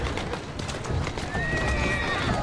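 A horse in the video game Assassin's Creed Syndicate lets out a loud, drawn-out whinny over the clip-clop of hooves, with someone talking throughout.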